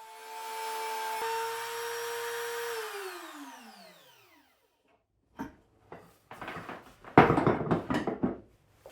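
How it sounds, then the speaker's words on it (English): A high-pitched router whines steadily, then winds down to silence; after a pause, bursts of harsh cutting noise rise and fall loudly as it routs a recess into cedar wood near a knot and split. "To avoid damaging the wood around the knot and the split, I routed out this recess in 2 passes"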